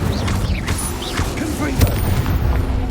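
The Incendio fire spell is cast in Hogwarts Legacy, with loud whooshing and rumbling bursts mixed with mechanical clatter and short tonal effects throughout a busy battle soundscape.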